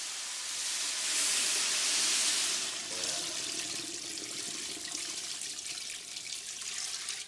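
Tap water runs into a stockpot for chicken broth, a steady close hissing rush that is loudest at the start and then settles into a slightly lower, even pour with no talking.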